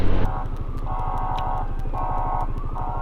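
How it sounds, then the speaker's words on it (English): An ambulance siren wails in a steady rising and falling pattern over a loud idling engine rumble, fairly close, on an icy road. "there's an ambulance coming"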